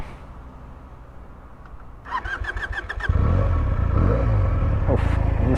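A Benelli TNT 300 motorcycle with its stock exhaust starts up close by, then settles into a loud, steady engine note that fills the rest of the clip, with no talk.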